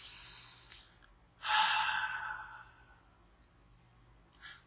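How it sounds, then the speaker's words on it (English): A person takes a deep breath, a long airy inhale followed by a softer, fading exhale, close and alone in a quiet room. "Take a big deep breath."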